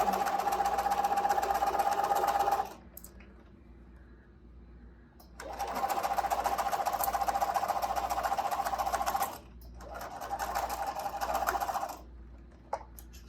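A domestic sewing machine stitches a cloth face mask in three loud, steady runs of motor whir and rapid needle clatter, separated by short quiet pauses while the fabric is repositioned and pins are pulled out.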